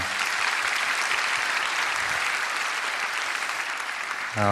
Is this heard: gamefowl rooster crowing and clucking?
no